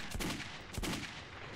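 Gunfire in the video game Metro 2033 comes as two sharp, loud bursts a little over half a second apart, each with a short booming tail over steady game ambience.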